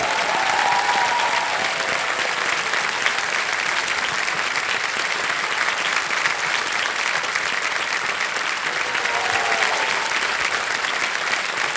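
Steady, dense studio audience applause on the Kaun Banega Crorepati quiz show after a contestant wins a stage, continuous and even from start to finish.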